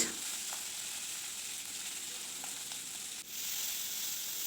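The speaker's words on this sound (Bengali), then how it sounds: "মাছটাকে খুব ভালো করে ভেজে নিতে হবে একটু কড়া করে" Small salted, turmeric-coated fish frying in hot mustard oil in a wok, giving a steady, close sizzle that runs throughout with a brief dip near the end.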